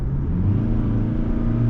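The 2.4-litre engine of a 2020 Toyota Hilux Invincible drones as it kicks down under hard acceleration, a steady low rumble heard from inside the cab.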